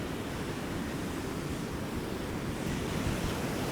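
Steady ocean surf rolls continuously on a beach during a walk, a broad wash of waves mixed with wind buffeting the microphone, close and even in level throughout.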